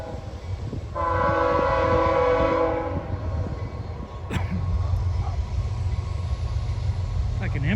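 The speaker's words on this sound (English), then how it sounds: "I just heard the Norfolk Southern train" Norfolk Southern empty coal train rolling past with a steady rumble, its horn blasting loudly for about two seconds, followed by a sharp clank and continued rail noise.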